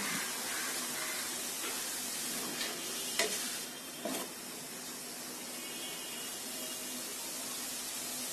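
Chicken and vegetables fry in a pan, giving a steady sizzle from start to finish, broken by a couple of brief stirring scrapes near the middle.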